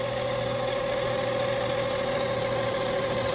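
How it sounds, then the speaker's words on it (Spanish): A 2012 Honda CR-V with a rattling underbody noise like the transmission, heard as a constant engine drone with a steady tonal hum and a faint rattle layered on top. "Este es un sonido que tiene el carro que a veces suena y a veces no."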